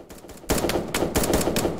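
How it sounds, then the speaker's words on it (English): Rapid video-game gunfire from 1v1.LOL, bursts of close, loud automatic shots firing in quick succession after a brief quiet start, with no talk. "He's shooting and he's trying to like destroy my build."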